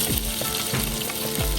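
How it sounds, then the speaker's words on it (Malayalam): Shallots fry in a pan with a loud, dense, continuous sizzle, close by, with faint stirring scrapes repeating through it. "ചെറിയുള്ളി മൂത്ത് വരട്ടെ."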